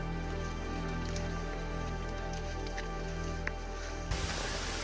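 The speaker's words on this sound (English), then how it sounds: "Unfortunately, it's still raining" Steady rain patters across a volcano summit in Sulawesi, a dense continuous hiss of drops close by with no voices, shifting briefly near the end.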